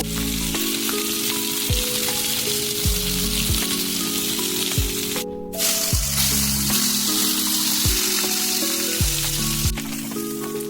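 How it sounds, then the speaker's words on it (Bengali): Fish heads fry in hot oil, giving a constant close sizzle heard under a steady, repeating musical backing, with no voices. "প্রথমে আমি তেলের মধ্যে মাছের মাথাগুলো ভালো করে একটু কড়া করে ভেজে নেব"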